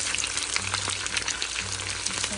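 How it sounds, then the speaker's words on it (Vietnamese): Chicken pieces frying in oil in a pan, a steady loud sizzle and crackle throughout with a faint low hum underneath, heard close and without talk. "Sẽ chiên lớp cái mặt sau này."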